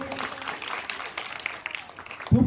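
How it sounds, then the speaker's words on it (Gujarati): A Gujarati primary school prize-giving on 15 August breaks into applause: a brief, fairly soft spatter of hand claps from a gathered audience, with a louder burst at the very end. "ખૂબ જ તાળીઓથી વધાવી લઈશું ભાઈ"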